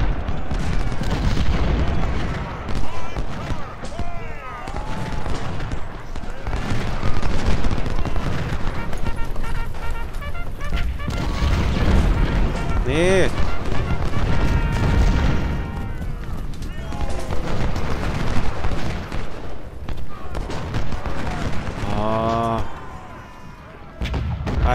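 Cannon and artillery fire in the American Civil War strategy game Ultimate General: Civil War, with repeated booms and crackling volleys of musketry layered densely through a loud, sustained battle soundscape with game effects.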